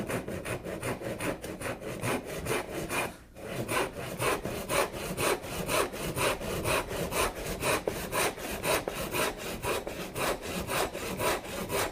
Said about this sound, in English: Taking care to try and saw square to the line, right down to the tenon cheek, and stopping